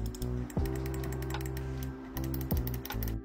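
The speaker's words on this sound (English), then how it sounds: "Here's what the buttons sound like." Crisp, close button clicks from a Logitech G203 Lightsync gaming mouse, pressed one after another at an irregular pace, with a low steady hum underneath.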